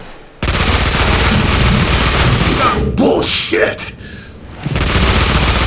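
Uzi bursts in the Max Payne 2 video game hotel firefight, dense continuous automatic fire that breaks briefly while someone speaks, then resumes loud and rapid.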